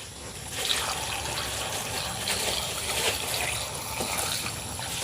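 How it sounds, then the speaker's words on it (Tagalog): Mineral water pours into a cooking pot in a steady, faint trickle that runs on for a few seconds without a break, with no voices over it. "Tapos sabawan natin ng mineral."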